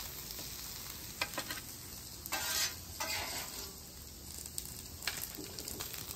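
Crispy hash browns and breakfast vegetables sizzling on a low griddle with rendering fat, a faint, steady crackle with occasional spatula scrapes and bursts, close by with no talking.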